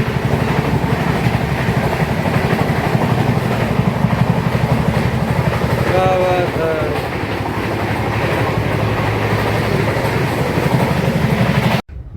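A passenger train runs at speed on the line from Ara toward Mumbai, with a loud, steady rumble and a rhythmic clickety-clack of wheels over rail joints throughout, and a brief voice heard over it.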